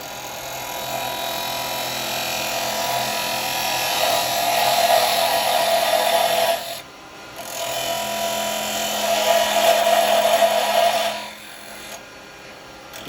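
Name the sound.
wood lathe turning a tenon on a toothpick holder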